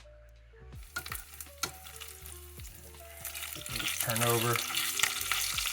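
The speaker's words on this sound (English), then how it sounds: "A beautiful sizzle of bacon on a Saturday morning." Bacon sizzles and crackles loudly in a pan, the frying hiss swelling as a strip is flipped, with brief speech and clinks of utensils early on.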